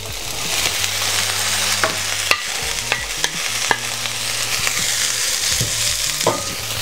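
Swiss chard stalks and tomatoes sizzle steadily in a pan over medium heat while a utensil stirs and knocks against it in irregular strokes, close and fairly loud throughout.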